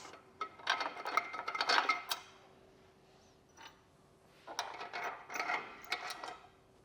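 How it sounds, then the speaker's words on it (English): Long bolts with washers are fitted into a Thule ReVert bike rack, giving two close bursts of small metallic clinks, taps and scrapes separated by a quieter pause. "Then we can insert our longer bolts with washers."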